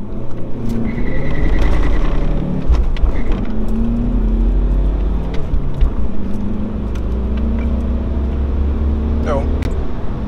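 A car with three people aboard accelerates hard during a timed 0–100 km/h run, its engine note climbing through the gears over a loud, steady cabin rumble while people talk inside.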